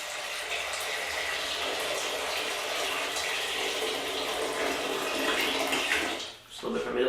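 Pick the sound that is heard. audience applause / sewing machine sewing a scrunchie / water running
water running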